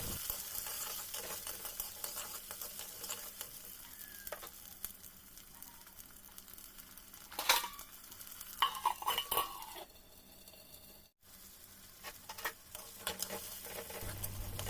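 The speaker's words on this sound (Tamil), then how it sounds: "வெங்காயம், பூண்டுலாம் எண்ணெயில் நல்லா வதங்கணும்." Whole small onions and garlic sauté in oil with a constant sizzle. Occasional stirs and utensil scrapes cut in, and a short clatter comes midway.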